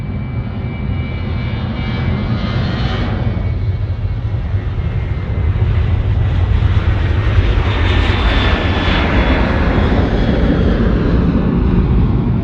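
Steady, loud roar of a Virgin Australia Boeing 737-800 jet rolling for takeoff at Sydney Airport, a broad rushing engine noise with a faint whine, swelling slightly midway and holding strong throughout.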